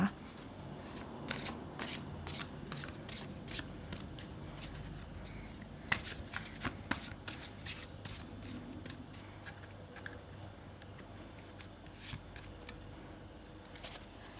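Tarot cards are shuffled by hand during a reading. Repeated quiet riffles and soft card clicks come in uneven bursts at close range over a low background hum.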